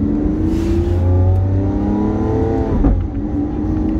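A Lamborghini Aventador S with its V12 revs up close and loud, the engine note climbing and holding before a sharp blip and drop as it settles.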